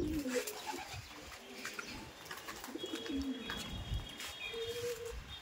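Madrasi pigeons at a loft coo in soft, repeated low calls with a few chirps, under a steady background murmur and occasional rustling.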